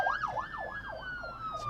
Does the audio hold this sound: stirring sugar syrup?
no